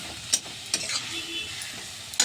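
Radish greens sizzle softly in a pan while a utensil scrapes and clicks against it a few times as they are stirred.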